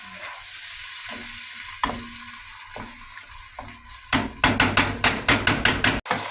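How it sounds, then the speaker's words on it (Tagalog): Tomatoes go into a sizzling kabsa sauce in a frying pan, with steady frying hiss and, later, a quick run of sharp, rhythmic spoon scrapes and knocks as the mixture is stirred close by. "Ilagay na natin yung kamatis."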